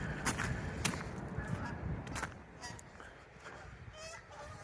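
Several geese honk in short bursts, some close and some farther off, over a faint background hiss, outdoors in snowy winter in Ottawa.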